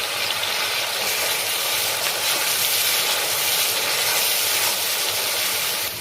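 Ground coriander, cumin and chili paste sizzles steadily in a hot pan for a soybean Mughlai curry, a dense, even hiss that stays close and loud throughout with no pauses.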